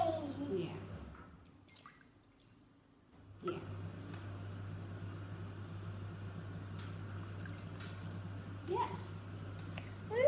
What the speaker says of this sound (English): now squeeze it so that the water can go into the